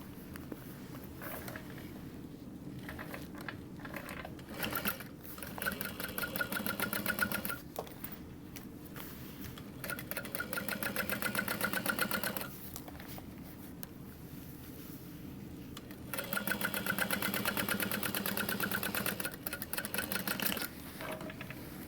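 Quiet, close machine whirring comes in several stretches of stitching with short pauses between, as a sewing machine topstitches a leather convertible backpack.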